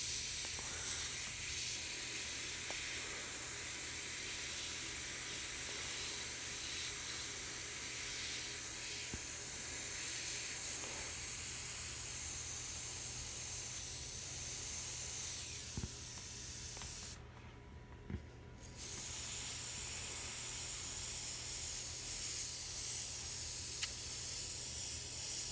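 Airbrush spraying paint in a steady, continuous hiss through a stencil and freehand, with one short pause near the end before the spray resumes; no one talks.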